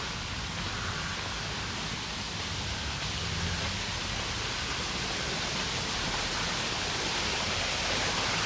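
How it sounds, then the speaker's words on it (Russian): A small cascade waterfall in the Lower park at Peterhof, a steady close broadband rush of falling water that holds evenly throughout with no voices. "каскадик, водопадик,"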